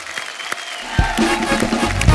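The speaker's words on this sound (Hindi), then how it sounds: "और एक बार हमारे म्यूजिशियंस Musicians के लिए तालियां, जोरदार" Studio audience on a comedy talk show swelling into clapping for the musicians, starting sparse and building to broad sustained applause with some crowd noise.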